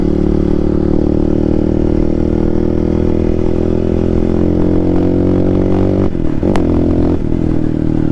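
The engine of a modified Hero Xpulse 200 2V dirt bike with a rally kit and full alterations runs loud and close, a steady throbbing idle with a brief blip and clatter near the end.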